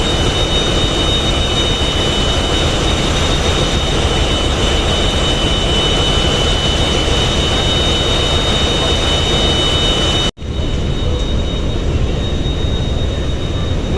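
Single-engine passenger launch Green Water 7 on the Dhaka–Matlab river route: a loud, close, unbroken engine roar with a steady high whine, cutting out only for a moment near the ten-second mark.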